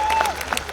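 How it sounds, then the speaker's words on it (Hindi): Applause from an audience at a Hindi poetry recital, a brief burst of clapping with some crowd noise and a faint tonal whistle over it. "तालियां कम बज रही है, बात तो बढ़िया कह दी।"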